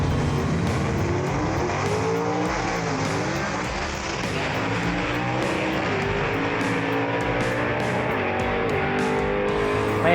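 A 1949 Studebaker truck gasser drag racing down the track, its engine roaring loud and sustained at full throttle for the whole stretch, with crowd noise faintly behind.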